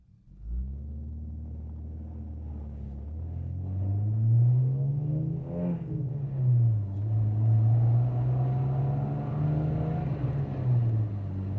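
A Citroën DS21 Pallas engine pulls through the gears while driving, a smooth low drone that rises in pitch, dips briefly at a shift, then climbs again and holds steady, close and moderately loud with no talk.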